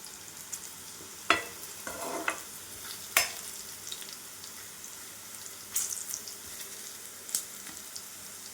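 Bitter gourd frying in a little oil for kakarakaya karam, a low steady sizzle with intermittent sharp clinks and scrapes of a spatula against the pan, quiet and close, with no talk.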